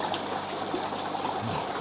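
Water flows steadily in the sump tank of a recirculating tilapia farming system, a continuous close trickling rush with no talk.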